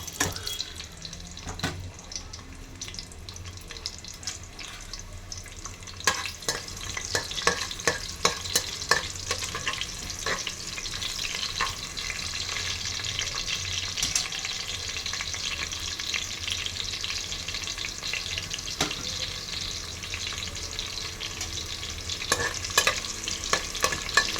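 Sliced onion frying in a pan, a steady close sizzle that swells after a few seconds as the onion goes in, with repeated spatula scrapes and clatter throughout and no talk.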